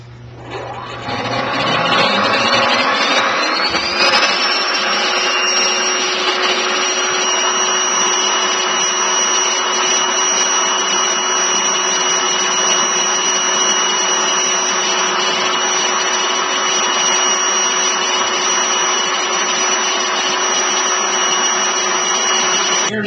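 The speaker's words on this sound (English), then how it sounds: "airflow into the vacuum cleaner with a 400 hertz motor" A vacuum cleaner with a 400 hertz motor spins up with a rising whine and then runs at a steady, loud, high-pitched drone for the rest of the clip.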